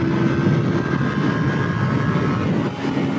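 A 2022 KTM 890 Duke motorcycle engine pulls hard under acceleration, a steady loud drone with wind rush throughout and no pauses or talk.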